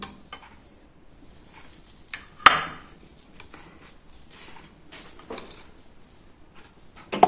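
A knife slices through a soft cottage cheese roll on a plate or board, giving scattered quiet taps and a few sharper clicks of blade against the surface, with no talking.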